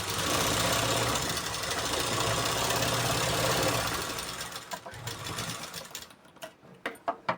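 Sewing machine running a straight stitch on blouse fabric, a loud continuous rapid mechanical whir for about four seconds, then slowing into scattered clicks and short bursts as it stops.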